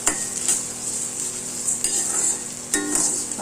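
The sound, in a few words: dry-roasting rock salt with spices for garlic powder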